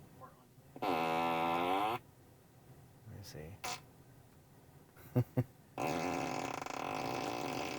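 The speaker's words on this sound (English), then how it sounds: "So you can transfer the whoopee cushion around and do all these fart noises." A Tesla's whoopee cushion mode plays loud fart noises from the car's speakers in long buzzing blasts and a couple of short pops, with someone talking in the gaps inside the cabin.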